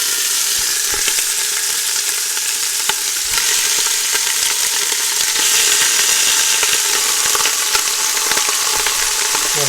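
Turkey parts searing in a couple of tablespoons of hot avocado oil in a stock pot, a loud, dense, continuous sizzle close up with scattered pops and scrapes.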